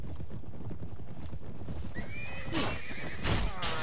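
Horses neigh loudly and hooves clip-clop at a gallop in the Mount & Blade Warband game, with a continuous rumble of riding underneath and sharp whinnies near the end.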